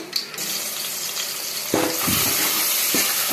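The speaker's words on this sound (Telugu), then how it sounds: "కొద్దిగా ఆయిల్ వేసి ఆవాలు వేసాను. ఇప్పుడు ఆనియన్స్ వేసేద్దాం." Onions hit hot oil with mustard seeds in a pan, a sharp burst of sizzling that settles into steady close frying with a few stirring scrapes.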